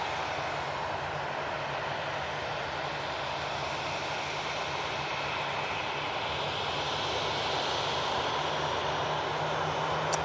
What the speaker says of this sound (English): That A320 CEO has just come in from